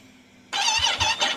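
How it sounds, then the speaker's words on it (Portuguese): After a moment of near silence, a 2025 Ducati Panigale V2 sport motorcycle engine starts up abruptly and revs with a sharp, raspy, pulsing roar, close and loud. "vou partilhar aqui um bocadinho do som da moto"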